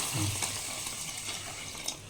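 Water poured onto soaking rice for idli batter, a steady, fairly loud rushing gush that holds an even level throughout with no talking.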